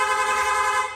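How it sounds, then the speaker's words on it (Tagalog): A Yamaha NMAX V2 scooter's rapid horn blares in one loud, steady honk, close by, lasting about a second. "Tapos busina. Meron pa rin po yan. Rapid horn."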